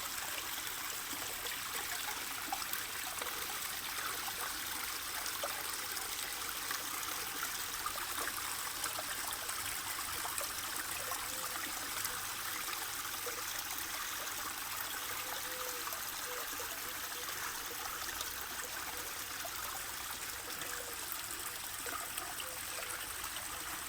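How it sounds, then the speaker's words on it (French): Water trickles steadily down a small waterfall into a garden pond, a soft continuous splashing flow with no talk, heard at a moderate distance. "Vue sur la cascade."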